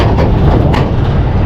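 An open-air tram carries riders through Lovers Key State Park during light sprinkles, giving a loud, steady rumble with no talk over it.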